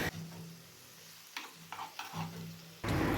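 Onion and tomato being stirred with kofta in a frying pan, giving a steady low sizzle with a few soft scraping strokes and a louder burst of frying near the end.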